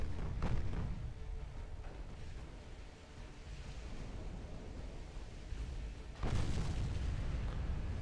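A warship turret explodes in Ultimate Admiral Dreadnoughts: a distant naval battle with a low booming rumble, a muffled blast early on and a louder, sudden explosion near the end over a wash of sea and wind noise.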